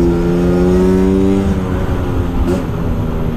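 Vespa scooter fitted with an AJS racing exhaust revs loudly and close, its engine note steady and then climbing with rising harmonics through a continuous run.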